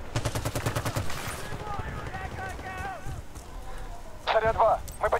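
Uzi submachine gun fire in a first-person shooter video game, a rapid rattling burst early on, then a shorter crackling burst near the end, with game sounds and voices in between.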